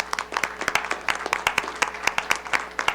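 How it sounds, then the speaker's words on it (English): Scattered, uneven clapping from a small audience at a board of education meeting, individual claps distinct and fairly close, a brief round without cheering or talk. "we'll give a round of applause for him"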